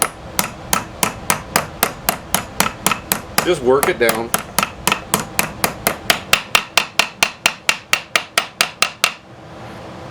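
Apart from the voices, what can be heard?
hammering bearing race into place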